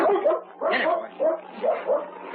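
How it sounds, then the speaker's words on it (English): A black husky gives a string of bright, excited barks and yips, close and loud, in rhythmic bursts with short gaps between them. "Blackie, with a joyful bark, pursued it."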